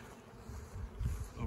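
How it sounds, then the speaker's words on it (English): Bees buzz steadily around top bar hives outdoors, a close, continuous drone that swells louder toward the end, with no talking. "It looks like there's bees in all three of my hives."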